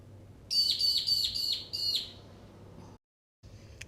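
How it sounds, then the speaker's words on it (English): Two birds squabble just outside a front door with a quick run of five bright, sharp chirps in steady rhythm, near and fairly loud, then quiet with only a faint later peep over a low room hum. "There's a couple of birds having a fight outside the front door."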